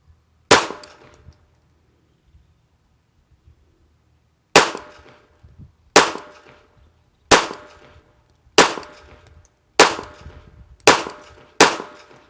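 A Bersa Thunder .380 ACP compact pistol fires hollow point rounds: one sharp report, a pause, then seven more loud, close shots in a steady cadence, each with a brief ringing decay.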